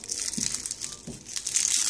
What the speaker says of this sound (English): you can see it comes wrapped in a wax paper wrapping